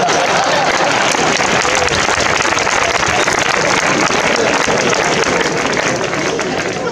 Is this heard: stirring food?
no